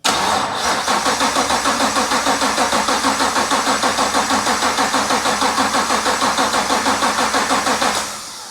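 Starter cranks the 6.2L Gen V LT1 V8 swapped into a BMW 635csi in a steady rapid rhythm for about eight seconds without it catching, loud and close, then the cranking stops.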